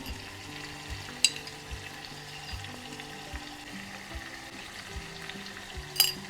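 Ghee sizzles steadily in a kadai as rice preparation begins, a close, even frying hiss with soft stirring scrapes and two sharp clinks from utensils; low background tones run underneath and no one speaks.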